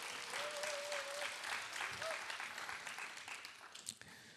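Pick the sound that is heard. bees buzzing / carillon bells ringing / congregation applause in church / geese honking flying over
congregation applause in church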